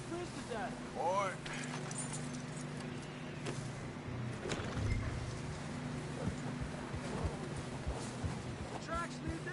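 A horse clip-clops along tracks in a cold, snowy stretch of Red Dead Redemption 2, its hoofbeats rhythmic and moderately close over a constant wind-like rumble, with voices speaking at times.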